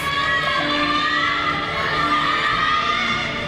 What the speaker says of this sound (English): when the crowd starts cheering